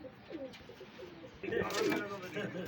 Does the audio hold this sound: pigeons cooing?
yes